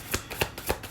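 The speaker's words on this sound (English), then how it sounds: "I'm gonna do one more shuffle." Tarot cards are shuffled by hand in three quick riffling bursts, close and fairly soft, with no talking.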